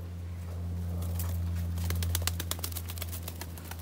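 Pigeons coo softly under a steady low mechanical hum, with a rapid series of sharp clicks and flutters in the second half.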